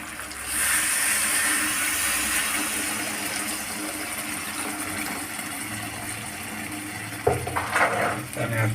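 Water is poured into a pot of chicken curry with potatoes, producing a steady rushing splash that fades into a simmer, followed by a few clinks of utensils against the pot near the end.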